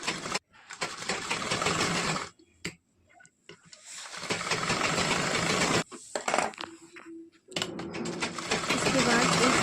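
A sewing machine runs in several short bursts of stitching while sewing the placket of a katori blouse, close by with quiet pauses between runs.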